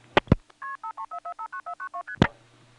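Telephone multi-frequency signalling from a 1977 step-by-step exchange: a key pulse followed by a rapid, evenly spaced run of about a dozen clean two-tone digit beeps, bracketed by clicks and thumps on the line.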